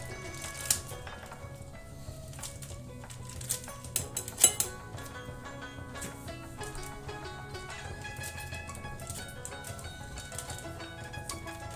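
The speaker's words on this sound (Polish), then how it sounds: "Najprostszym sposobem są nożyczki." Scissors snip open the plastic bag around smoked pork neck just taken from a ham cooker: a few sharp clicks and faint clinks over a steady background hum.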